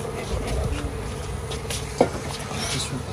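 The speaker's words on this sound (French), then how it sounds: "Regardez les milliers d'abeilles." A dense swarm of honeybees hums steadily all around in the Hatta mountains, a close, continuous buzzing with a brief click partway through.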